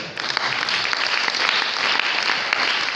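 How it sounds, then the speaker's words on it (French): A church congregation applauds steadily and loudly throughout, a dense sustained wash of clapping with no pauses. "Est-ce qu'on peut acclamer les Seigneurs?"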